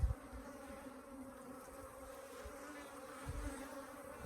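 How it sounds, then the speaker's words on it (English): Agitated Africanized hybrid honey bees swarm inside a hive with laying workers, their dense close buzzing forming a continuous faint hum with occasional soft bumps. "as you can tell how jittery these bees are, they're just running all over the place"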